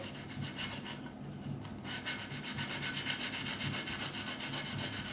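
Fine 1500-grit abrasive rubbed along the fret ends of a Music Man Silhouette bass during a refret, easing sharp edges in a steady back-and-forth rasp that repeats close up and alone.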